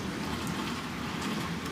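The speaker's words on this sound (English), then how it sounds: "I'll sit on the front porch and just watch it rain" Rain falls steadily beyond a front porch, a soft, even patter with faint hiss, low and continuous throughout.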